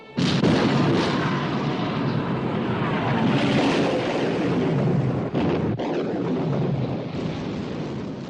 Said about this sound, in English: Open fire, Captain. Open fire.